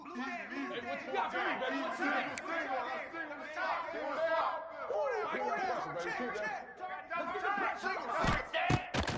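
A college football stadium crowd at Ole Miss before a big third down keeps up a dense, steady roar of chatter and shouting, with some sharp thumps near the end.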